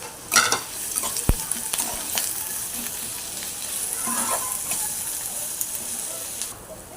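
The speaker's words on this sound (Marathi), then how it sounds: "आणि कांदा चांगला गुलाबी होईपर्यंत परतायचा आहे।" Finely chopped onions with curry leaves sauté in a pan, giving a steady frying sizzle. A sharp knock of a spoon against the pan comes near the start, followed by intermittent stirring scrapes.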